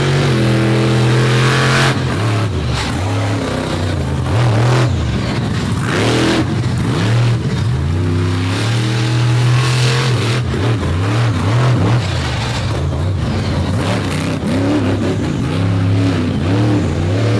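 Chevrolet monster truck engines rev loud and close throughout a Bloomsburg monster truck race, with sustained roaring harmonics that rise and fall as the trucks accelerate across the track.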